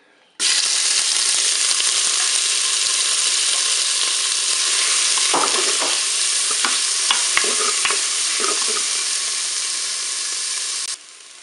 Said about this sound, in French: Mon huile est chaude, je vais pouvoir mettre mes crevettes.